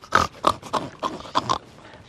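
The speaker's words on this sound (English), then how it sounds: "A pig says, oink, oink, oink." A pig at an animal sanctuary grunts and oinks in a quick series of about six short, close, loud snorts with brief gaps, no talking.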